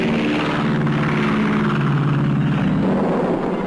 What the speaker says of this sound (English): At dusk, the giant bombers go for a raid against the greatest of German armament plants, the Krupp Works at Essen.